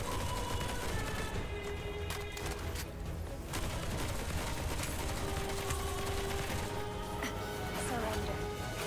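Rapid bursts of gunfire from the video game Duet Night Abyss crackle continuously over layered game effects and music, loud and sustained throughout.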